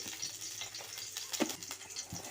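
Mustard seeds crackle and splutter in hot oil while tempering for a Tamil brinjal kadayal, a dense faint sizzle scattered with small popping bursts.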